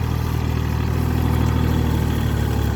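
A loud tractor engine runs steadily at close range with a low, throbbing rumble and mechanical clatter, and no speech.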